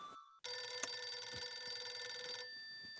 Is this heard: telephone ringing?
yes